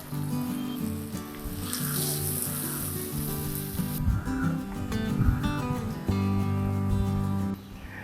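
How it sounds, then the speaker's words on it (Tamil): Chopped onions and coriander fry in a pan over ginger and garlic for a gravy, giving a moderate sizzle and crackle with some scraping and clatter, with background tones underneath. "இப்போ நம்ம வெட்டி வச்சிருந்த கொத்தமல்லியும் வெங்காயத்தையும் சேர்த்துக்கலாம்"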